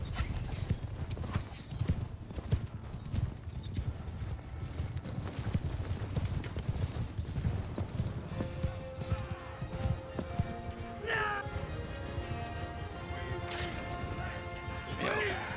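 Many galloping hooves of Khuzait horse archers drum in a dense, continuous clatter during a Mount & Blade II: Bannerlord battle against looters, with a horse whinny and clashing hits rising toward the end.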